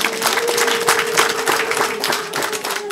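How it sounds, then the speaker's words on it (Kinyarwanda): Wedding guests at a church ceremony applauding in a dense, steady wash of clapping, with a faint sustained tone running underneath. "kadukomere Imana amashyi"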